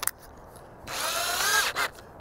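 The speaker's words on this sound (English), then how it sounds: "Put that in my drill." A handheld power drill with a bit fitted whirs up for roughly a second at close range, preceded by a brief click and ending with a short second burst.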